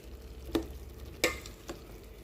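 Sausage chutney is stirred in a pan, with three distinct spoon scrapes and knocks against the pan over a low, steady simmering sizzle and no voices.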